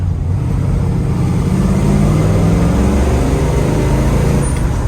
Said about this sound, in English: Let's downshift again, actually.